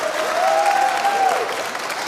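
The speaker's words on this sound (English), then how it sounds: "Give them another big round of applause." An audience at a school spring music concert applauds, dense steady clapping close and loud for a couple of seconds, with a faint whistle-like tone over it.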